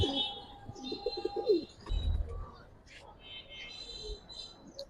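Giribaz and other fancy pigeons coo in low, throaty rolling phrases near the start, with faint chirps later, while someone talks nearby.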